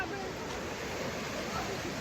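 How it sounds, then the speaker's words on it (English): Ocean waves crashing on a beach, a steady, full wash of surf noise filling the whole short stretch, close and fairly loud, with no distinct breaks. "The waves collided."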